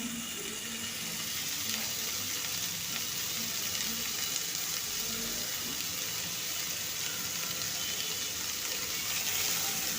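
Potatoes and red amaranth greens fry in a pan with a steady, close sizzle that holds evenly throughout, no voices over it.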